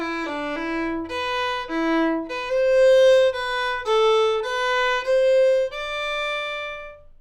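Fiddle plays a short phrase from a tune, a run of clear bowed notes moving step by step, some brief and some more sustained, close and bright with no talking.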